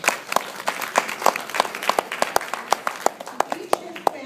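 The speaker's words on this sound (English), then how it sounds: "And each and every one of you should be applauded." An audience claps for volunteers: sharp, closely spaced hand claps from a fairly small crowd, sustained and uneven throughout, with a voice faintly mixed in under the clapping.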